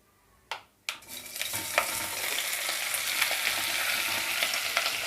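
Small pieces of meat sizzle in hot ghee in a cooking pot, starting with two sharp bursts as they drop in, then a steady, close, busy crackle with scattered pops throughout.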